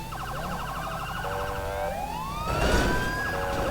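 A police car siren wails in the FiveM video game, rising and falling sweeps over a steady engine drone, loud and close with a brief burst of noise near the end.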